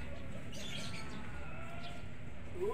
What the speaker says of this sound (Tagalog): Ang kalapati sa itaas.